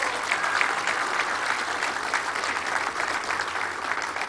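Steady, dense applause from a large outdoor crowd at a bridge inauguration speech, many hands clapping continuously at an even level throughout.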